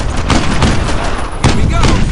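Video game gunfire from Brothers in Arms, a loud fusillade of suppressing fire with several sharp bursts close by, mixed with shouting voices.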